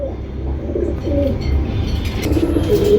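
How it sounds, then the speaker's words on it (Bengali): Pigeons at a pigeon market, including sweet Indonesian and golden sweet breeds, coo in soft, low, repeated calls close by, with steady market background noise and no talk. "ভাই এটা সুইট কবুতর সুইট ইন্দোনেশিয়ান নর আর ওটার হলো গোল্ডেন সুইট মাদিটা"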